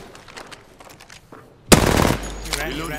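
Loud burst of automatic gunfire in the video game Apex Legends, a sudden rapid volley erupting after quiet with some speech, then tapering into continued weapon and impact noise.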